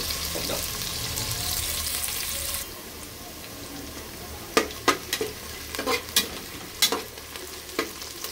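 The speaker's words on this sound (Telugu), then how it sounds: "సో మనకు ఆనియన్ అయితే ఫ్రై అయిపోయింది" Onions deep frying in a pan with a steady background sizzle, broken by a series of sharp scraping clacks as a spoon stirs them, close and fairly quiet.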